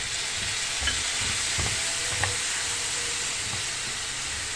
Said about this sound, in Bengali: এবার আমি সামান্য জল দিয়ে দিচ্ছি মশলাগুলোর জন্য